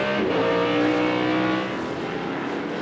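A 2004 BMW M3 GTR race car lapping the Phoenix track in a 250-mile race, its engine a steady, loud high-revving drone that eases slightly toward the end.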